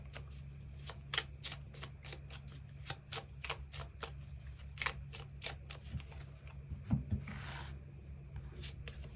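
Tarot cards being shuffled and drawn close by, a quick run of crisp riffling flicks and snaps followed by softer sliding and rubbing as cards are laid out, with no talking.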